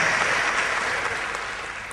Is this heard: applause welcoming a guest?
yes